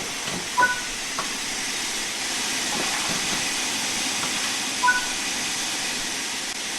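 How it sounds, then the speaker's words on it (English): Steam locomotive cylinder cocks venting steam in Train Sim World 4, a steady broad hiss running throughout with a couple of brief clanks and tones over it, fairly loud and even, no talk. "Open the cylinder cocks to remove any water from the cylinders"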